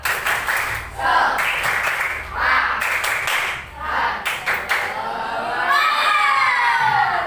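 Children in an Indonesian primary classroom shout a rhythmic 'tepuk semangat' clapping chant, with bursts of sharp group claps alternating with chanted voices, ending in sustained shouting by the class.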